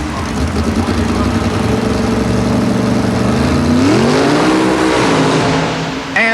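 A 1948 Fiat Topolino coupe mud racer powered by a small block Ford V8 with nitrous injection, blaring loud and close at sustained high revs with a rising pitch sweep midway before cutting off.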